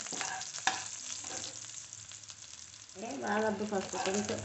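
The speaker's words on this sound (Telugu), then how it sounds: "ఆయిల్ వేసుకొని పోపు దినుసులు వేసుకొని తర్వాత ఉల్లిపాయ వేసుకోవాలి, కొద్దిగా క్యారెట్ తరుగు వేసుకోవాలి" Onion, tempering spices, carrot and green chilli sizzle in hot oil in a pan for Maharashtra-style poha, a steady frying hiss with a sharp clatter near the start. A voice talks over the second half.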